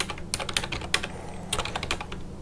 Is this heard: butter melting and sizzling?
no